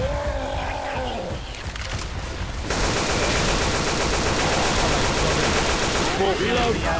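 Video game gunfire in Left 4 Dead 2 starts as scattered shots, then turns into a dense, sustained burst of rapid automatic fire that fills the last several seconds, loud and close.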